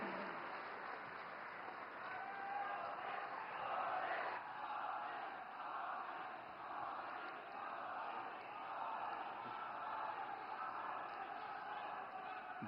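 A large crowd applauds and cheers to welcome Prime Minister Narendra Modi at a project inauguration event in Gujarat, India; dense, sustained clapping heard from a distance and fairly faint.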